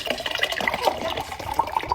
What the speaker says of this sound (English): Filling up some water.